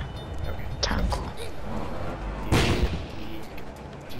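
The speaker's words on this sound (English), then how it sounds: "Did you just throw a grenade at me?" A grenade blast in a multiplayer video game lands around the midpoint as a loud, broad burst. Gunfire and other game noise run before it, and players chatter underneath the whole time.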